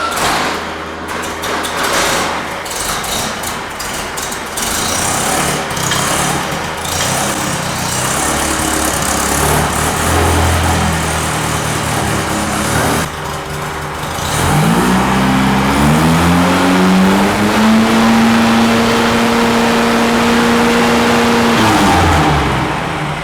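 Car engine fitted with a vacuum SVDA or 009 distributor roars loudly under load on a dyno, holding a steady high drone and then sweeping up in pitch through a smooth rev climb before easing off near the end.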